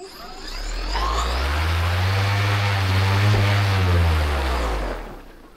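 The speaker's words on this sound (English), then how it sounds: "we'll go ahead and do a quick throttle up" An electric paramotor's motor and propeller spin up from quiet to a loud, steady drone with a rising hum, hold at throttle for a few seconds, then wind back down, close by and alone in calm outdoor air.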